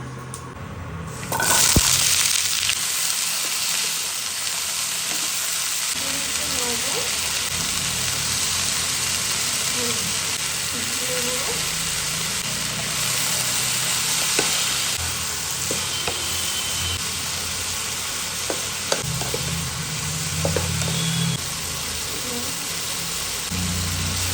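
Five-spice (panch phoron) and dried red chillies sizzling in hot oil, a dense, continuous hiss that holds steady and close throughout, with occasional faint clinks and low background rumble.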